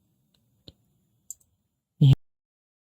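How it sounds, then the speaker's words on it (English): Computer mouse clicks while working in VMware Workstation's network editor: two or three faint, sparse single clicks followed by a louder, fuller click near the end, with quiet in between. "Click on virtual, click on edit, network editor, to the NAT setting."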